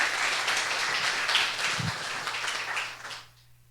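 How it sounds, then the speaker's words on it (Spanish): Applause from an audience at a university book launch in Cali, a dense, steady wash of clapping that fades out near the end. "Un aplauso para el profesor."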